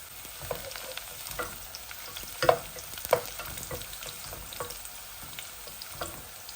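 Garlic and two dried red chilies fry in oil for a red amaranth greens bhaji, giving a close, continuous sizzle with a couple of louder spits and light stirring, no voices.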